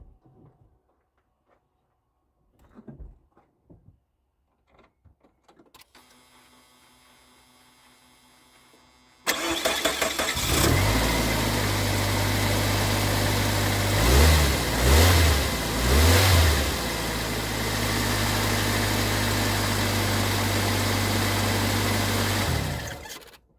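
A 2000 Chevy Tracker engine cranks and catches after quiet handling noises, then settles into a steady loud idle with three quick revs that rise and fall before it holds an even drone.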